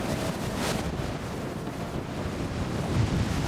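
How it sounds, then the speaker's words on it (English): A sloop sailing through gale-force winds and rough seas, with continuous roaring wind buffeting the microphone and the broad wash of surf close by. "the Spirit was lashed by gale force winds and rough seas"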